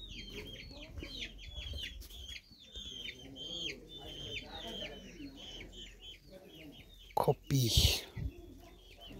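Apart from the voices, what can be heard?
clucking of domestic chickens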